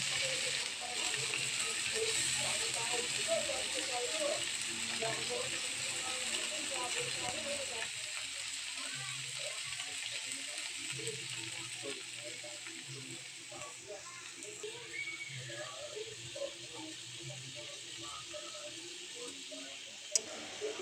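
Sliced bitter gourd tossed into a hot pan with browned garlic and onion, frying in a steady sizzle and crackle that lasts throughout, with occasional stirring scrapes; the sizzle eases a little after the first few seconds.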